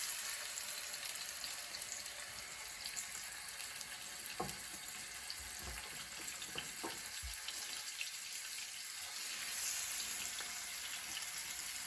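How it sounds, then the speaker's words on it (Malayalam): Karimeen fish shallow-fry in hot coconut oil with a soft, continuous sizzle and hiss, broken by a few faint knocks and taps from the pan. "നമ്മുടെ ഫിഷ് ഫ്രൈ ചെയ്തുകൊണ്ടിരിക്കുകയാണ്"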